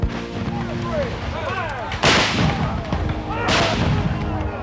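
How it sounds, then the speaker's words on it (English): A Civil War reenactment cannonade: two loud, nearby artillery booms about a second and a half apart, each with a rolling echo, over a background of voices. "the rebels are opening an overwhelming cannonade upon us"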